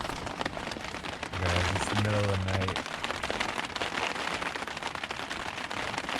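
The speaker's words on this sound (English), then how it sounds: "You can hear the rain." Steady rain falls at night around a primitive shelter by a remote mountain lake, a constant close hiss of drops on the surface while someone speaks quietly over it.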